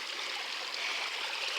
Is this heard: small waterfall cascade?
yes